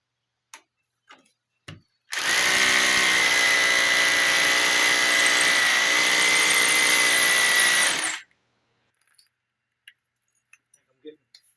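A Bosch SDS plus hammer drill bores into concrete outdoors during garage door prep, one continuous loud, rattling hammering burst of about six seconds, with faint knocks before and after.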